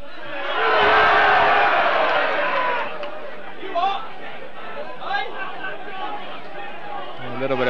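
Football crowd at a 1993 Wycombe Wanderers home match against Kingstonian, a loud roar of chatter and shouting that swells early then settles into a steady murmur with scattered calls.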